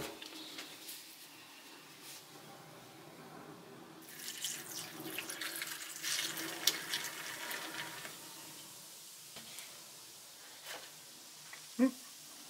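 Homemade fizzy ginger beer pours into a container with a soft, trickling splash that swells midway and then fades, followed by a few faint clinks and small knocks near the end.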